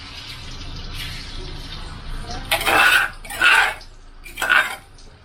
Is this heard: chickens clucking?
no